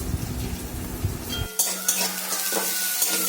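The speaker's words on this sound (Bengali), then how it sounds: "এবার শাক ভাজাটা বসিয়ে দেবো" A short scrape and clatter of stirring gives way to a sudden bright hiss as leafy greens hit hot oil with onion and dried chili, sizzling up close.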